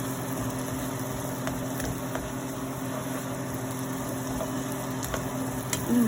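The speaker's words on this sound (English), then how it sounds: "I'm sauteing these onions down, sweating them down, making them good and yummy" Onions saute in butter in a pan with a faint, steady low sizzle and an occasional soft tick, quiet and unchanging throughout, with no talking.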